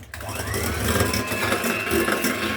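An electric mixer whirs steadily as it beats cake batter with added vanilla sugar for a rolled sponge, a continuous close motor drone with a slight rattling texture throughout.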